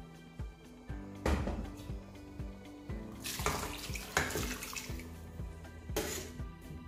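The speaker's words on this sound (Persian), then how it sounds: "یک پیمانه دوباره آب جوش رو بهش اضافه میکنم" A cup of boiling water is poured into a cooking pot for Persian Moroccan-style braised lamb shank, a splashing, gurgling pour with clinks of the pot, fairly close and quiet, with no talking.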